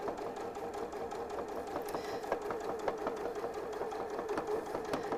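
A sewing machine runs steadily while attaching binding to a quilt, its rapid needle ticks forming an even mechanical rhythm, close and unaccompanied by speech.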